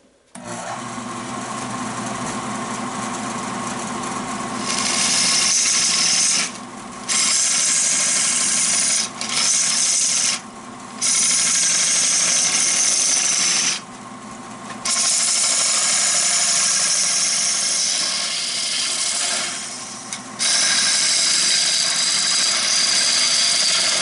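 A lathe tool plunges into red pine fatwood on a wood lathe, giving a loud, steady scraping and cutting whine with several brief breaks as the tool lifts off between passes.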